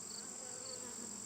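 Honeybees hum busily during an open hive inspection, a dense close buzz with a bright high whine sustained evenly through the short moment, no speech.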